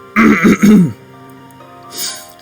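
A single rough, gravelly throat clearing up close, followed by a brief faint breath.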